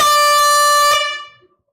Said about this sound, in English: The air horn can get brought out a lot